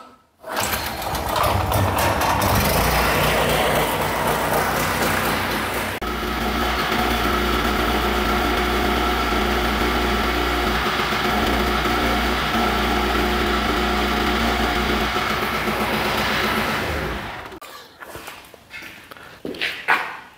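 A portable generator powering a cheap welding gun runs as a loud, steady engine drone for about seventeen seconds, then cuts off into quieter clatter.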